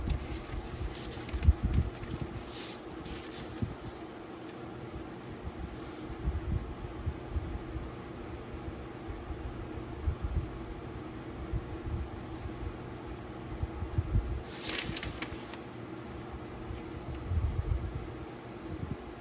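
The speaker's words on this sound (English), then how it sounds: "Got the fan on, it's just blowing papers all over." An electric fan runs in a garage during a 2010 Town and Country front hub bearing job, a steady low whooshing drone with airy hiss throughout, broken by occasional clunks and brief rustling bursts.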